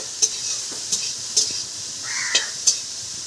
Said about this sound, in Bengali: শাক ভাজা হচ্ছে।